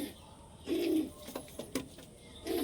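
Pigeons in a backyard loft, kept as mated pairs, give a few soft low coos in short bursts, fairly close, with quiet gaps between calls.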